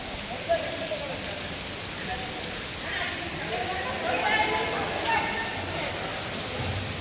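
Rain falls steadily over a teachers' football match at a polytechnic institute, a dense hiss that stays even and slightly louder toward the middle, with voices faintly mixed in.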